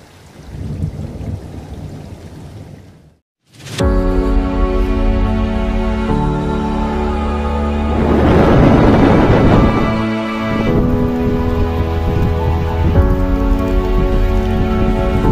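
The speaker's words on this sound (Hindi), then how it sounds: "इतनी तगड़ी वाली बारिश है ना यार" Heavy monsoon rain at Danta Fort in Rajasthan, a loud dense broadband roar that runs steadily after a brief cut near the start, swelling around the middle with rumbling low-end energy.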